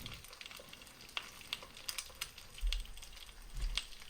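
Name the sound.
egg frying and sticking in a pan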